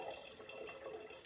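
Water pouring into a jug to dilute a rosemary black pepper mead, a steady close splashing fill with no one talking.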